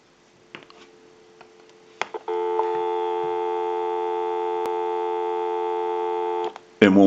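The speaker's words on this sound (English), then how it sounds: "We'll go ahead and give you some dial tone." Steady electronic dial tone on a TA-954 military field telephone line, a loud continuous multi-pitch hum lasting about four seconds after a few clicks, ending with a sharp click and rattle.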